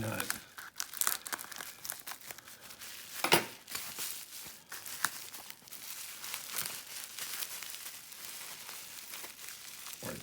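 A package from a lock picker is torn open and unwrapped, with crisp crinkling and ripping of packaging in irregular bursts close by, a couple of louder tears among the rustling.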